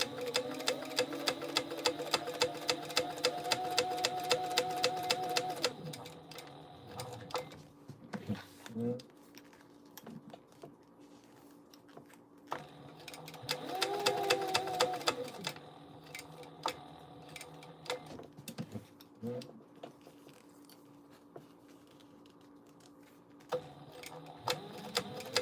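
A sewing machine back stitches while a jar mug maker is sewn, running in quick rhythmic bursts of needle clatter, a long one at the start, then shorter ones, separated by quieter gaps with a voice talking.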